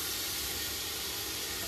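Water poured into hot spiced masala with chilli powder in a pot of chicken and potatoes for biryani, giving a steady, close, even hissing sizzle throughout with no pauses.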